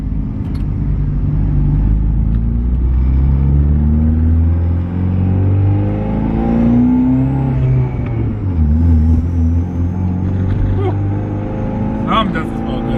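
A heavily modified 2.0 Theta I4 engine in a Genesis Coupe on its first test drive, droning loudly and continuously from inside the car as the revs rise and fall through several gear changes.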